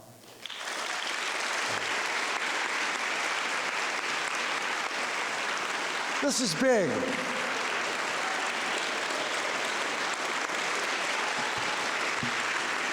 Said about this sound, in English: How about a standing round of applause?